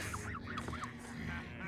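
A cartoon bird from the 1994 animated film The Pagemaster lets out a honking, goose-like laugh, a quick series of nasal honks repeated in a rhythmic burst over background film sound.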